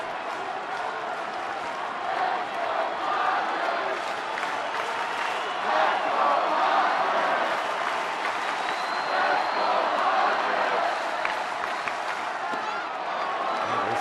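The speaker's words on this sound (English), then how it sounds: "Crowd is about as active as any we've seen here all season long" A crowd at a Padres home baseball game in extra innings cheers and claps steadily, a broad sustained roar heard from within the stands with a commentator talking over it.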